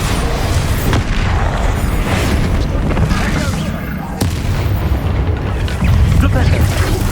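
Bombarda blasting spells explode in the Hogwarts Legacy video game, a dense, loud run of booming blasts and crackling bursts with no pause.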